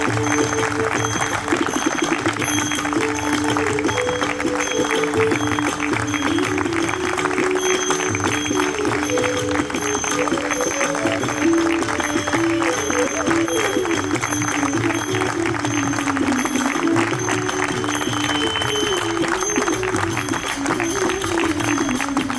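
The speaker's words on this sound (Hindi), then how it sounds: "एक बार जोरदार तालियों के साथ" Steady applause from an audience at a book launch ceremony, continuous and fairly loud for over twenty seconds, with some tonal sound and voices mixed in beneath the clapping.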